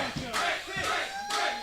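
Wrestling crowd at a tag team match chanting and cheering in rhythmic swells, three rising bursts of shouting voices close and loud.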